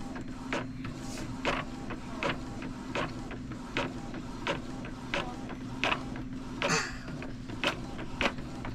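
An Epson L-series inkjet printer runs a test page, its print head shuttling back and forth in a steady rhythm of whirring passes with a mechanical hum between them, close and clear.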